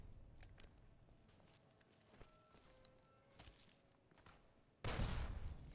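Dynamite blast in Fallout: New Vegas, one sudden loud booming explosion at the very end, after quieter scattered gunfire and footsteps.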